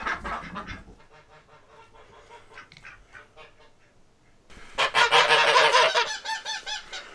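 Geese honking on a farm, a few scattered calls at first, then a loud burst of overlapping honks near the end, close by.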